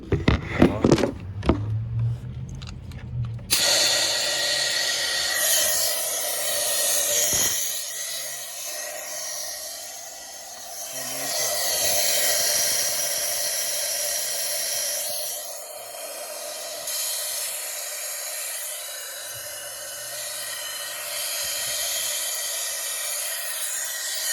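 Compressed air from a compressor line hisses out through the intake valves of a Mazdaspeed 6 engine during a leak-down test, a steady, close broadband hiss that holds for about twenty seconds after a few opening clunks.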